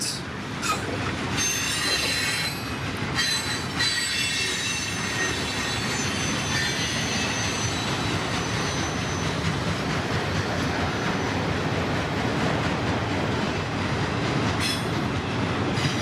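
A freight train with a distributed power locomotive rolls steadily past at close range, a loud continuous rumble of wheels on rails with squealing and clickety-clack throughout, no talk.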